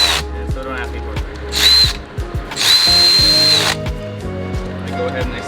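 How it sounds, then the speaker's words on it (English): Tool tightening water pump bolts on an Audi 2.0 engine: several short whirring bursts with rapid clicking, loud and close, separated by brief pauses. "I go ahead and I cinch these down with the ratchet"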